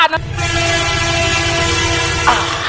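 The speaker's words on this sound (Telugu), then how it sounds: "అక్కడ ట్రైన్ వస్తుంది రా" A train horn blares in one long, loud, sustained blast over the rumble and clatter of rail cars passing close by.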